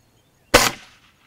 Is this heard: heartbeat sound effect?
no